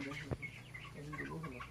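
Frightened chickens react to a monkey nearby, a rooster-like cackle and several clucks rising over a murmuring background, with one sharp short squawk near the start.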